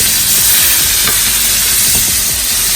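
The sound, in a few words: burger frying and sizzling in brown butter and oil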